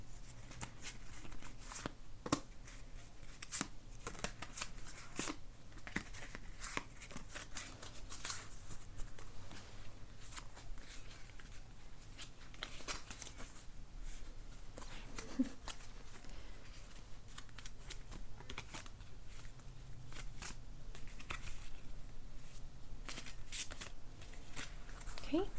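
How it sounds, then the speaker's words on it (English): Tarot and oracle cards are gently shuffled by hand, a soft, close, continuous riffling and sliding with small papery flicks, over a quiet background. "And I'm just going to shuffle them gently."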